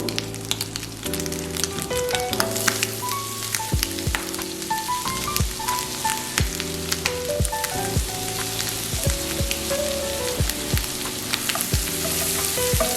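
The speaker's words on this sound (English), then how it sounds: "the bacon is becoming crispy. And this is the point where you just drop in the other ingredients. And I'll start with the white onion." White onion dropped into a pan of crispy bacon, frying with a steady, close crackling sizzle and occasional stirring clicks throughout.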